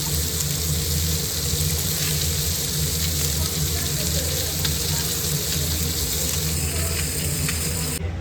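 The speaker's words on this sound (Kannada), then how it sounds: "fish tawa fry" Fish fries in oil on a tawa with a continuous crackling sizzle over a steady low hum, even and moderately loud from start to finish, without speech.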